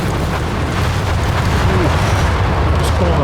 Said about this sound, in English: Come the carpet bombs